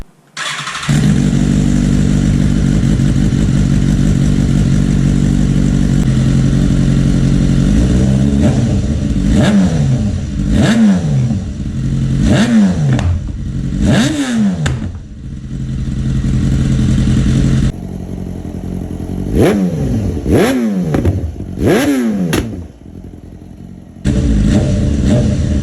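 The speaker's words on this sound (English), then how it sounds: "then I can turn this thing on again and give it a little bit more revs" BMW S1000RR sport bike fitted with a link pipe, idling loudly then revved repeatedly in sharp rising blips, each falling back to a rough idle, close and very loud with no voices.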